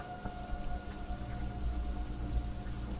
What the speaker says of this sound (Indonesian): Di luar hujan mengguyur deras.